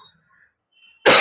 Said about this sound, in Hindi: खांसी आ गया था, माफ कीजिएगा